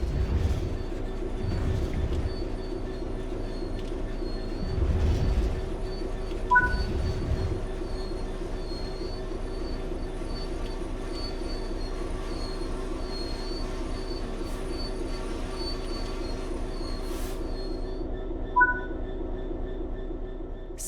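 In the Train Sim World 3 video game, a train runs along the rails with a steady low rumble and a long, high wheel squeal as it brakes, plus a few faint clicks.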